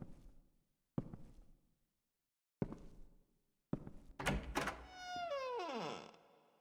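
A door in the horror video game Evil Inside shuts behind the player: three heavy, separate thuds land a second or so apart, then a louder clattering burst runs into a long, whining creak that sweeps downward before fading, with no voices.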